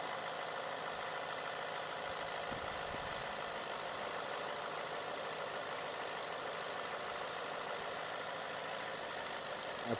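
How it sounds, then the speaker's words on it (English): A Ford F-150 engine idles steadily at close range after foam cleaner is sprayed into the intake, with a constant low rumble and a faint high-pitched whine, with no talking. "got the truck running"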